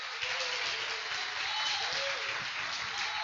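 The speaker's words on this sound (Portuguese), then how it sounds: "Você pode aplaudir o nome do Senhor?" Church congregation applauding during a sermon, a steady, even wash of many hands clapping at moderate distance with a faint voice under it.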